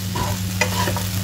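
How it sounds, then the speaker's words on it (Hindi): Okra bhujia is stirred and fried in a pan at home, short scraping strokes of a spoon over a soft continuous sizzle, close and clear, with no talking. "इधर मैं भिंडी का भुजिया बना रही हूँ"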